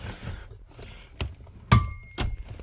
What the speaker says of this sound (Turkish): Buna da orijinal ayna sesi diyorlar.